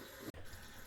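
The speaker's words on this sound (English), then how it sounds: "What we see here is how the water escapes from the boiler through that" Water drains out of an electric water heater through its relief valve in a continuous hissing gush, briefly interrupted by a tiny gap before the flow resumes.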